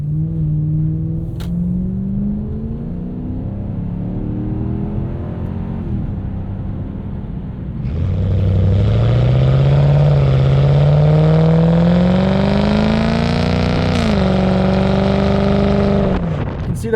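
1998 Lexus GS 400 V8 with a Megan catback exhaust pulling under acceleration, a deep exhaust note that climbs in pitch, swells louder partway through, rises through the revs and eases briefly between shifts, heard close with no talk.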